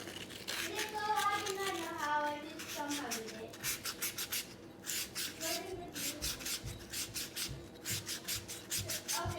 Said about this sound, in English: we're going to take some 320 grit sandpaper, and we're going to use that